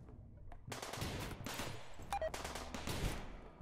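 Artillery-style firing in the video game RimWorld, with a cluster of heavy gun blasts in quick succession, fairly close and punchy, with short quiet gaps between the bursts.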